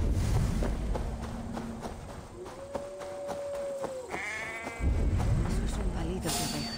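A sheep in Assassin's Creed Valhalla bleats in a few wavering, drawn-out calls amid game sound effects and light footstep-like thumps, with no one talking over it.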